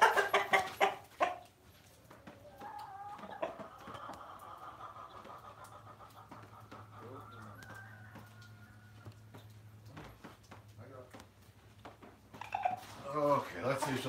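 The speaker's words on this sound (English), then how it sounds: "Move it, chickens." Farm chickens cluck in soft, scattered bursts around feeding time, fairly close, while a person talks and breathes heavily nearby, with quieter stretches in between.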